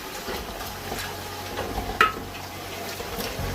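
A soft, continuous sizzle of garlic frying in a pan, with a light clink of a utensil partway through.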